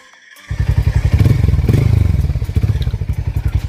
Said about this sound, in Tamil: இப்போ வண்டியோட எக்ஸாஸ்ட் சவுண்ட் பார்க்கலாம்.